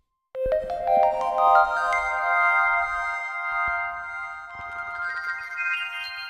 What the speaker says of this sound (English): That's got to be the pitch shifting delay, right? It's waiting however many beats and then it's playing again an octave higher.